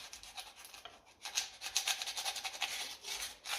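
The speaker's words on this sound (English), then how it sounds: "It's getting a bit of sandpaper up there and just roughing it a little." Sandpaper roughing the fork tube of a 1968 Triumph T100C motorcycle, a close, soft rhythmic rasping in quick repeated strokes, steadier and slightly louder in the second half.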